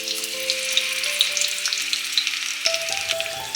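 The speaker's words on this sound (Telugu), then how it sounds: "ఈ నూనె వేడైన తర్వాత దీనిలో చిన్న చిన్నగా కట్ చేసి పెట్టుకున్న క్యాప్సికమ్ ముక్కలను వేసుకోవాలి" Chopped capsicum sizzles steadily in hot oil with a dense, even crackle. A few faint tones sit beneath the sizzle, and no one speaks.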